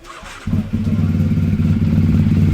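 A black NR motorcycle with a custom aftermarket exhaust starts up and settles into a loud, steady, deep idling rumble close by, with no one talking.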